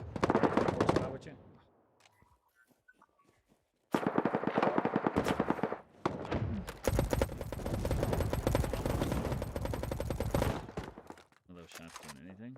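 Gunfire in the shooter video game Battle Prime, rapid automatic bursts and single shots in several loud clusters separated by short pauses, with some player talk in between.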